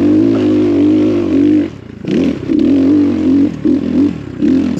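Air-cooled 250 cc engine of an X Pro Templar street/trail motorcycle, a loud close idle broken by several short throttle blips that rise and fall in pitch.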